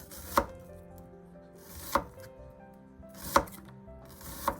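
Shallots chopped with a knife on a cutting board for a spicy Thai salad, four sharp close chops spaced about one and a half seconds apart over a quiet room background.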